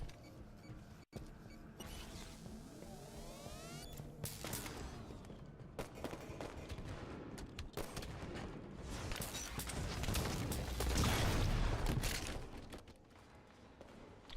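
First-person shooter gameplay with dense gunfire and railgun shots during a base push in a capture-the-flag match, steady loud bursts and impacts throughout, swelling louder toward the end.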